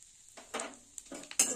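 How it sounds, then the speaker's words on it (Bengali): Bay leaf and five-spice tempering frying in hot ghee for karela sukto, a soft sizzle with a few short stirring scrapes and a light clink of utensil against pan. "ফোড়নটা একটু ভাজা হোক"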